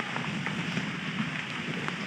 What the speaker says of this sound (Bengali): আর কি জোর বৃষ্টি।